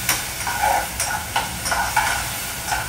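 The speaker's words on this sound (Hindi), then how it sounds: "तो प्याज डाल दिया मैंने, प्याज भून लिया, फिर उसके अंदर मैंने डाल दिया है टमाटर।" Onion and tomato frying in a pan in a home kitchen, a steady sizzle with soft stirring scrapes recurring about every half second, close and moderately loud, with no talking.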